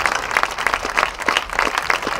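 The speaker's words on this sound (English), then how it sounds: "And a huge applause for Tyler Williamson." A crowd applauds at a high school varsity football game, dense sustained clapping from spectators in the stands, fairly loud and continuous.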